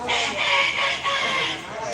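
Live chickens kept as an offering at a Betawi ngaruat ceremony cluck and squawk continuously at close range, with people talking faintly underneath.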